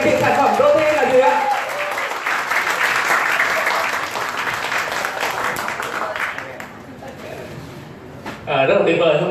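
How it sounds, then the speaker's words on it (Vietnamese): An audience at an evening business training seminar gives loud, sustained applause that thins and fades out. Near the end a voice cuts in as the clapping dies. "Vậy các anh chị hãy cùng vỗ tay thật lớn"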